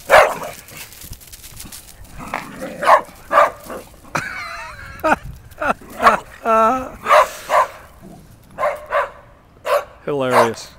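Several dogs bark, yip and whimper in repeated bursts while playing together at a dog camp, close and loud, with a person talking over the commotion.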